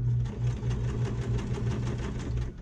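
A sewing machine stitches fabric beside nylon along a marked seam line, giving a close, loud, continuous motor whir with a fast stitching pulse that lasts the whole short stretch.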